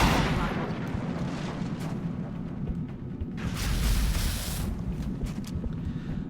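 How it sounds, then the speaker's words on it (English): A shredder rocket fires in the XCOM Long War strategy game, a heavy rumbling blast that swells midway through over a dense battle din, with a voice speaking briefly. "Shredder rocket!"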